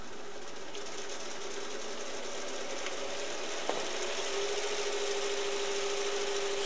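A motor under tachometric speed control runs with a steady whirring hum, then rises slightly in pitch as it speeds up, fairly quiet and constant.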